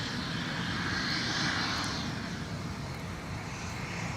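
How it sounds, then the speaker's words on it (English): Southwest airliner taxiing on taxiway Tango at MSP airport, a steady broadband jet engine roar with low rumble, continuous and moderately loud throughout. "the Southwest departure is going to duck behind us on taxiway Tango"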